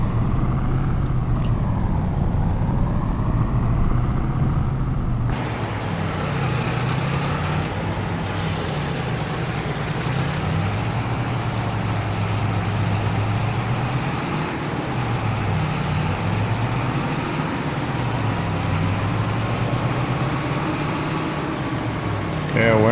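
A heavy truck in Farming Simulator 22 pulls away on a snowy Polish farm, its diesel engine droning steadily and loudly with a hiss of air brakes releasing, under a voice talking.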